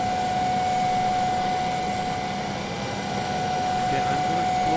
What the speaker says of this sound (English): Let's start up the plane.